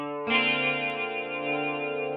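Clean guitar chord through a chorus effect on a JC120-style clean amp model in a Behringer V-Amp 2, struck once and sustaining with a shimmering, steady ring.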